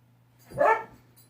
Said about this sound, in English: The dogs are going to play now.